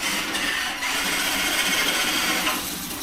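The electric motor of a Redcat COE Hauler RC drift truck whines steadily at high pitch as its rear tires spin, loud and close with a brief dip mid-way.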